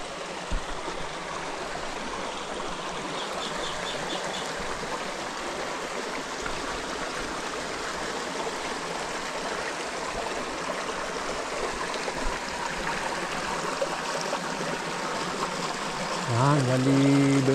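A steady, broadband rush of a flowing stream fills the whole stretch at fairly close range, unbroken throughout, with a brief low voice rising near the end.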